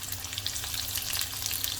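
Potatoes frying on high flame in a pan for a Sindhi sewai breakfast, giving a steady close crackling sizzle with no talk.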